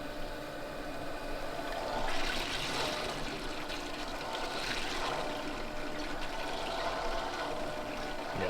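Water pump circulating coolant through the cooling system of a car with a rotary engine swap, a steady rushing, trickling flow of water that runs continuously at moderate level, swelling slightly midway, with no talking.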